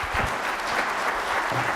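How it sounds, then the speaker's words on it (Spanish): An audience at a judicial training session applauds for a teacher, a brief burst of dense, steady clapping. "Un aplauso para la maestra."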